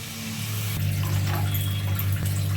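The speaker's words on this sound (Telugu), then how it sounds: "ఇప్పుడు వాటర్ పోసుకుందాం" Water poured into a pan of frying spice masala for a capsicum gravy, a steady rushing pour with a low sizzling hum that runs for about two and a half seconds.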